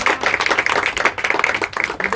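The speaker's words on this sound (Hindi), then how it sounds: "एक बार जोरदार तालियां।" Attendees at a herbal business opening ceremony clap together in a brisk, loud, close burst of many hands, steady and dense for a couple of seconds with no voices on top.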